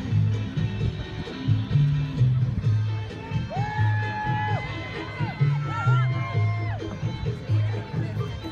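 Crowd noise from spectators at a women's state championship cycling scratch race, a steady murmur of voices with scattered whoops and whistles rising over it, while a commentator's voice carries through the whole stretch.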